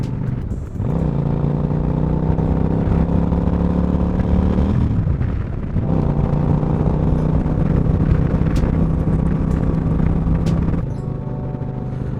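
A motorcycle engine drones steadily while pulling uphill in third or fourth gear, heard up close with wind rush, the pitch dipping during a brief shift then holding a constant hum.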